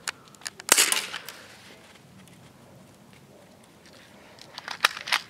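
A Smith & Wesson M&P 40 airsoft pistol snaps off light, quick shots toward a fence some distance away, a cluster early on and a few more at the end, with faint background noise between.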